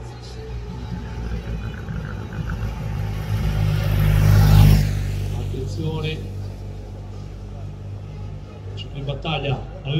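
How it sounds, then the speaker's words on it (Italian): Race organization cars pass by at a regional women's "Allieve" cycling race in Lonate Ceppino, with engine rumble swelling to a close peak midway then fading, while spectators and people talk and cheer. "Arrivano le macchine dell'organizzazione"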